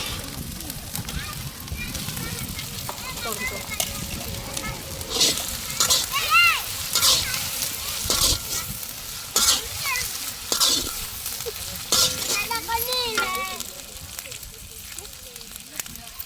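Onions go into a hot pan with already-softened ginger and garlic for vegetable fried rice, raising a steady close sizzle and crackle with occasional stirring scrapes while a voice talks over it.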